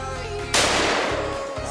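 A single powerful pistol shot cracks sharply at an outdoor shooting range, loud and close, with a brief echoing tail trailing off under steady background noise.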